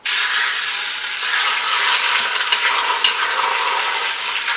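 A beef roast sears in a hot pan with a loud, continuous sizzle that holds steady from start to finish, close up and with no voices, broken only by a few faint crackles.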